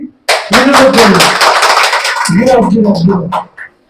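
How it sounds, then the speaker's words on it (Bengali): An audience of mothers and sisters at a Mahalaya day gathering in Purba Medinipur claps hands in a loud, dense burst that fades out, with a voice calling over it. "আপনারা প্রথমে একটা হাততালি দেন দেখি"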